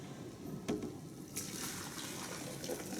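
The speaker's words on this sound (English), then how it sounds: "We're going to pour that into our blender" Hot liquid pours faintly into a blender in a home kitchen, a soft continuous splashing trickle with a couple of brief clunks.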